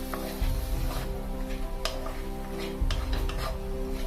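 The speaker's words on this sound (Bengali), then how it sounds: "এবার এটাকে ভালো করে কষিয়ে নেবো" Spicy Bengali-style egg curry masala is stir-fried in a pan, with a continuous sizzle and repeated scraping strokes of a spoon against the pan, up close and without voices.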